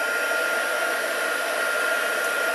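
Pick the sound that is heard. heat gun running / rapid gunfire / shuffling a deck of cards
heat gun running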